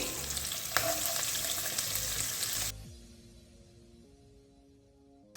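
Chillies and a small onion frying in hot oil in a pan, a loud steady sizzle with stirring that cuts off abruptly partway, leaving only a quiet hum.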